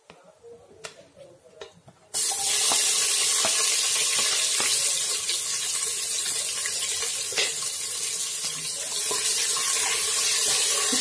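Long-sliced onions hit hot oil with cumin for chicken pulao, bursting into a loud, steady sizzle after two seconds of quiet, with occasional crackles running continuously to the end.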